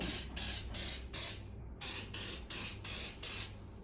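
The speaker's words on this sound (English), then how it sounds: "I'm giving it a good spray." Short hissing bursts from an aerosol cleaner spray can aimed around burners, in quick succession, about seven in a row with one brief pause, close to the microphone.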